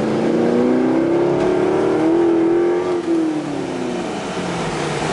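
A 2001 Chevrolet Corvette Z06 pulls hard in second gear, its engine note climbing steadily and loud from inside the car before easing off near the end.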